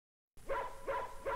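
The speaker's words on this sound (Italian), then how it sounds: "Bene, è un cane." A dog barks three times in a steady rhythm, each bark close and moderately loud, with no voices present.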